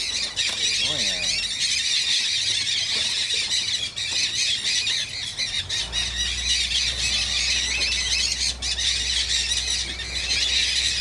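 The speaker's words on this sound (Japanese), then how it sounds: "This is a blue-headed parrot." Flocks of parrots, including blue-headed parrots and mealy amazons, squawk and squeal nonstop at a riverside clay lick in the Ecuadorian Amazon, a dense shrill chorus with people talking quietly underneath.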